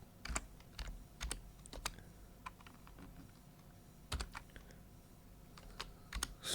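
Typing on a computer keyboard into the Firefox search bar: scattered, quick key clicks in short bursts with pauses between, close and fairly quiet, with no talking.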